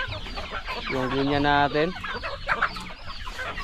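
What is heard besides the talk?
chickens clucking on farm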